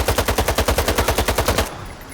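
Loud automatic gunfire in S.T.A.L.K.E.R. 2, a fast steady burst of about fifteen close shots that stops abruptly, leaving quiet background.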